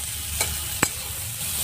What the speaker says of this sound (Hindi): तो दोस्तों प्याज को थोड़ा लाल होने देते हैं।